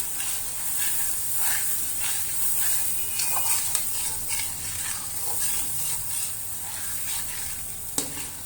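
Sweet potato halwa stirred with a spoon in a kadhai: a steady close sizzle runs under repeated scraping stirs, with one sharp metallic clank near the end.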